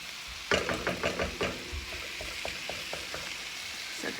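Ground turkey sizzles steadily in a pan as it browns, with a burst of scraping and clinking from stirring at the start that settles into an even crackle.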